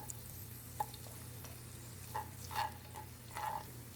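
Garlic and onion sauté in oil in a frying pan while squid adobo is prepared, a soft steady sizzle with a few light stirring scrapes and clinks, moderately quiet and close.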